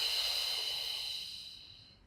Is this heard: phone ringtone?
no